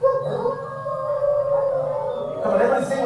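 Several voices join in a long, steady imitation of a coyote singing, a held howling tone that stays loud and close, swelling slightly near the end.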